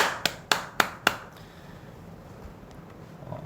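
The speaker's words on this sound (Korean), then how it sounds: "박수." Four sharp, evenly spaced hand claps ring out close at a land-market seminar, followed by quiet room tone.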